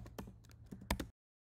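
Quick bursts of keystrokes on a computer keyboard as a prompt is typed, close and clear, a run of taps lasting about a second before stopping abruptly.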